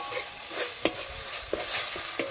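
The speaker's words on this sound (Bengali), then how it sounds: "চিংড়িটা আমি ভালোভাবে মশলার সঙ্গে নাড়াচাড়া করে ভেজে দেবো" Prawns fry with spices in a pan for lau chingri with poppy seed paste, a soft continuous sizzle punctuated by three or four sharp scrapes of the spatula.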